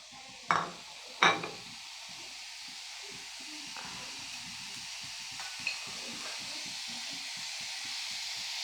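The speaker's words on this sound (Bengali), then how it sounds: "নারকেলগুলোকে আমি ভেজে নেব নারকেলগুলো আমি চুলাই দিয়ে দিলাম" Grated coconut dry-frying in a pan on the stove: two sharp metallic clanks near the start, then a steady soft hiss with light intermittent stirring scrapes, close and quiet.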